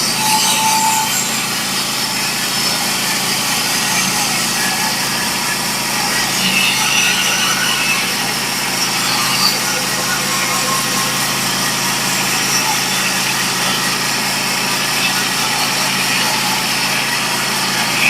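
A band sawmill mills 1x5 boards, twelve feet long, for a customer, a steady loud cutting drone with engine whine running continuously for the whole stretch with no talk.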